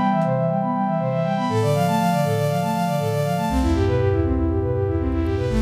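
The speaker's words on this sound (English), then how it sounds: "I had the LFO of the Drift synthesizer modulating the low pass frequency." A Drift synthesizer arpeggio plays a loud, steady run of stepping notes while an LFO sweeps the low-pass filter, so the bright upper tone swells and dulls, with a deep bass line joining partway through.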